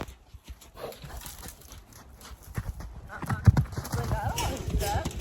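A Tennessee Walking Horse cross cantering in a riding arena, hoofbeats thudding in a loose rhythm, quiet at first and growing closer and louder toward the end, with snorting breaths and a rider's voice under them.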